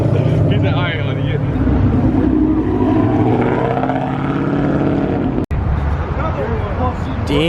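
A 2020 Shelby GT500 pulls into a car meet with a loud, steady engine rumble that fills the scene. Crowd chatter and voices carry over it, and a brief sharp click lands near the end.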